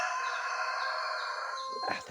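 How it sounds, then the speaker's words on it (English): A rooster crows in one long drawn-out call that fades near the end, with a second bird starting up faintly as it finishes, fairly close and clear with no voices. "the rooster chorus,"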